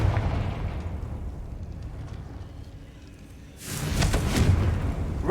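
A Confringo fire spell bursting in the game Hogwarts Legacy, a loud rumbling blast that fades into a dip and then flares into a second roaring, crackling explosion.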